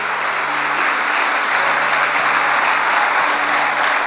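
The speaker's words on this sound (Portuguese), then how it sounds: "Então dá um aplauso aí ao Senhor Jesus." Church congregation applauding in a steady, dense wash of clapping that fills the whole stretch, loud and continuous with no pauses, with a faint tonal hum running underneath.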